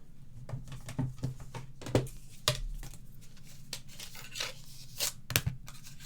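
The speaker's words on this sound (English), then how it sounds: "I'm going to die cut my little" Die cutting a piece of card stock for a painted poppies card: soft scraping and a few sharp crackling snaps and clicks spread over several seconds, close and fairly quiet with a low hum underneath.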